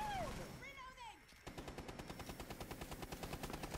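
Video game gunfire shooting through a wall: after a few whistling tones, a rapid automatic burst starts and keeps hammering in an even, fast rhythm, fairly quiet overall.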